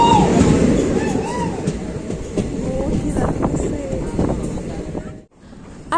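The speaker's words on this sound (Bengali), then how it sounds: "তো গাইজ দেখতেই পাচ্ছ ট্রেনে তো উঠে পড়েছি" Inside a packed commuter train on a busy Monday, a steady rolling rumble of wheels runs beneath constant crowd chatter, cutting off abruptly near the end.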